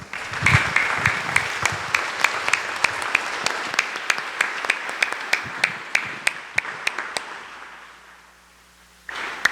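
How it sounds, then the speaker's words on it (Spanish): Scattered clapping from a church congregation: a thin run of sharp individual claps that thins out and fades to near quiet before a final sound at the end. "denle un aplauso al Señor."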